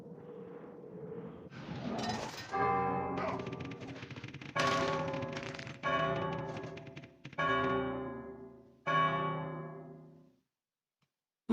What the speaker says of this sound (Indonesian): Anda seharusnya dapat dengan mudah membunyikan bel kedua saat bel pertama masih berbunyi